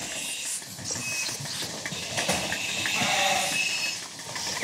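A flock of dairy ewes bleats steadily inside a climate-controlled sheepfold raising Roquefort milk, with many overlapping cries at moderate distance filling the barn and no talking.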